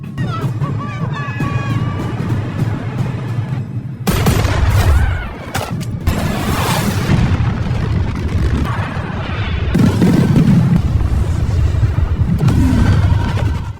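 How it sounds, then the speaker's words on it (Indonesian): Bursts of gunfire and heavy booming missile explosions fill a dense, loud film battle mix, with sharp cracks and rumbling blasts layered over music. "Abel dan Bishop mulai melakukan tembakan"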